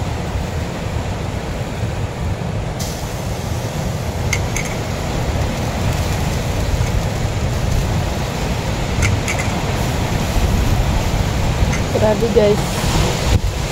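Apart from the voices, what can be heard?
strong wind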